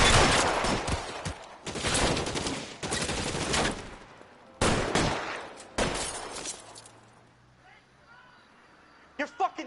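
Bursts of video game gunfire from L.A. Noire, loud volleys of automatic and rapid shots in several clusters separated by short gaps, fading to quieter scattered sounds near the end.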